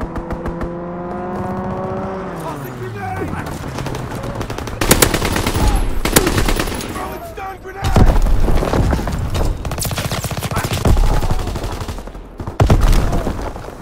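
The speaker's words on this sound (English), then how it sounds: "Enemy strafing run inbound." An enemy aircraft makes a strafing run in the video game Call of Duty WWII, with loud rapid machine-gun fire and booming impacts. A plane engine sweeps downward at the start, and a voice speaks over the chaos.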